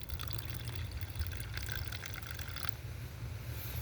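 Epsom salt and distilled water mixture poured into the cells of a battery, a steady liquid trickle and filling sound running continuously with faint dripping, no talking.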